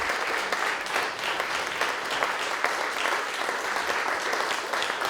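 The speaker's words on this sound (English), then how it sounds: "Applause for Rena for coming all this way." Steady applause from the audience at a translated-poetry reading continues unbroken, a full, close wash of many hands clapping at an even level from start to finish.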